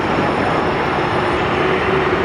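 An airliner at Sky Harbor Airport landing and then taking off, a steady, loud engine roar with a rising whine, heard from the ground and alone without voices.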